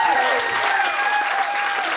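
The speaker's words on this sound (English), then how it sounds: "Round of applause to you." Audience applause at a charity gala honoring volunteers, a dense, steady burst of clapping filling the room for about two seconds, with a faint tone lingering beneath.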